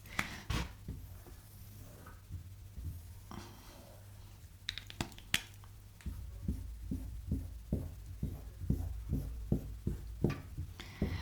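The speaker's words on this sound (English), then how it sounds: "Actually, let me just draw a whole new heart." A pen draws a heart on paper, making close, quiet scratching strokes followed by a quick run of short, rhythmic ticks, with no talking.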